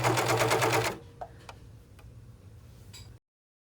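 A serger or sewing machine runs fast and steadily for under a second while stitching fabric for a tiered ruffle dress. A few faint clicks and taps follow against quiet background noise.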